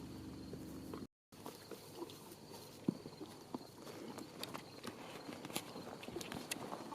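Horses walking on open ground at a campground with bison nearby: soft, irregular hoof clip-clops under steady insect and outdoor ambience, fairly distant and faint, with a brief dropout early on.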